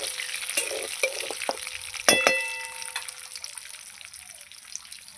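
A bay leaf tempering sizzles in hot oil in a home kitchen, crackling and hissing quietly with a few louder spits and pops, including one sharp burst partway through, then settling into a soft steady fry.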